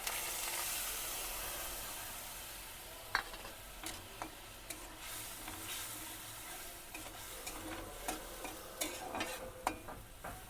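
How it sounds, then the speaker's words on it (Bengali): Ground cumin, coriander and chili powder stirred into a frying pan, a hissing sizzle that fades after the first seconds, then soft scraping stirs and scattered clicks of a spoon on the pan. "এবার আমি জিরের গুঁড়ো আর ধনের গুঁড়ো আর লঙ্কার গুঁড়ো মিশিয়ে রেখেছি এই মশলাটা দিয়ে দেবো"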